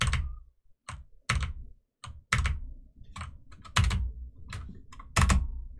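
Computer keyboard keys are pressed in separate clacks and short flurries, loud and close, with brief silences between the strokes.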